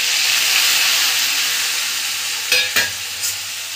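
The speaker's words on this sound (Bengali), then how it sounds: "ভাজা ভাজা করে নেবো।" Onion paste frying in mustard oil and ghee, a loud close sizzle fading slightly over time, with a few brief stirring scrapes near the end.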